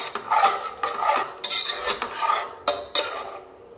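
A spoon scrapes and stirs through a thick dum biryani mixture in a metal pot over a medium flame, with repeated rasping strokes and occasional clinks against the side.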